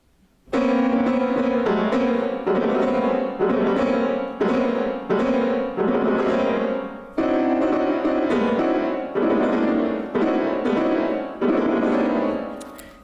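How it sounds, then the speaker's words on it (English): Ornstein's Danse Sauvage on piano, loud dissonant tone clusters hammered in a driving, repetitive rhythm of heavy chord blows with brief gaps, close and solo, no talking. "the tone cluster. It's essentially what you get if you play the piano with your fists"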